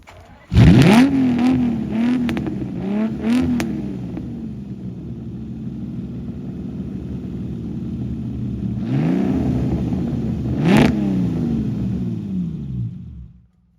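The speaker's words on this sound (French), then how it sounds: "comme vous pouvez l'entendre, il y a d'autres moteurs qui rugissent" Loud sports car engines rev and roar in bursts at a private rally on open roads in Sicily, one near pass at the start and another later, with a lingering mechanical hum between.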